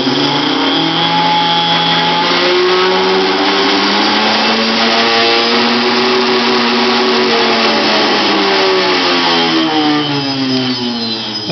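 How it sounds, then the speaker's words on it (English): A DC motor with a bad armature runs continuously, a loud steady whine with wavering, sweeping tones as its speed drifts up and back down, alone without speech. "So currently I have a DC motor on top hooked up, and the motor is running under DC."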